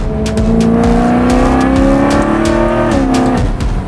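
A loud BMW 335i E92 engine revs hard and steadily, its pitch climbing and shifting through gears, close and continuous with no talking.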